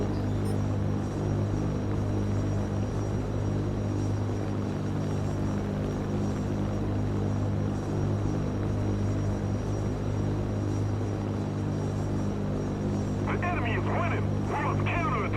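Steady droning hum of a Tu-95 bomber's propeller engines climbing over an airfield in a video game, a constant loud tonal throb throughout, with someone talking over it near the end.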